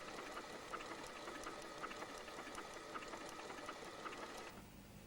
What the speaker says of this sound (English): Sew along the fabric with the edge up against the sewing guide.